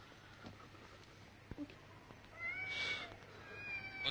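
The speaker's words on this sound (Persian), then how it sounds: "یه گربه بچه." A small kitten meows faintly a couple of times in a quiet house at night, thin and high, against low background hiss.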